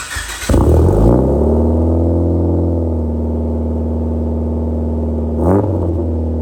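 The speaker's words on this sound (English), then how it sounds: "let's take a listen and hear what it sounds like on first startup" A Mitsubishi Lancer Evolution VIII engine with a newly installed exhaust cranks and fires up, revving briefly before settling into a deep, loud, rumbling idle with a throaty exhaust note.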